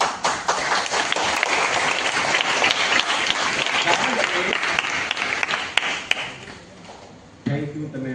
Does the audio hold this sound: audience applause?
yes